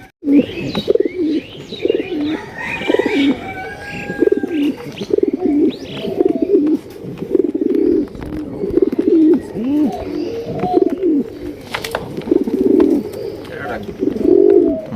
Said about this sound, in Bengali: অনেক সুন্দর এক জোড়া কবুতর বাচ্চা